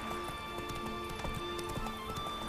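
Roach the horse's hooves clip-clop on stone in The Witcher 3, a steady run of close hoof strikes over a continuous game ambience, with an occasional whinny.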